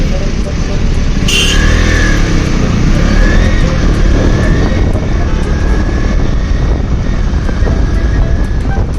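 A motorcycle engine drones steadily while the bike is ridden on a night outing, with a continuous loud engine hum and rushing wind noise throughout.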